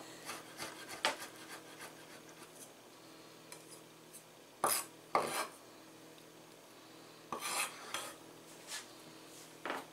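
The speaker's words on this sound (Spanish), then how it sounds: "Y aquí tengo yo también los ajos con que se cocinaron. Los vamos a triturar también" Cooked garlic cloves are crushed in a kitchen, making quiet grinding and rasping scrapes with a few sharper knocks and rubs, close and intermittent, with no talking.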